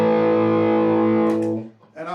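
A sustained, gritty guitar tone from an overdrive pedal rings out loud and steady, then cuts off, followed by a brief picked fragment.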